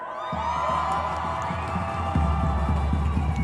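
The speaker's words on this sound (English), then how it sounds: "Those are pro-Hamas protesters literally cheering Iran firing on Israel." Protesters at a rally cheer and chant as a crowd. A sustained roar of many voices carries throughout, with rhythmic drumming or clapping pulsing underneath and growing stronger toward the end.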